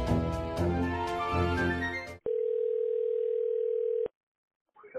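After a stretch of music, a single steady telephone call tone plays loud and clear for about two seconds. It then stops abruptly.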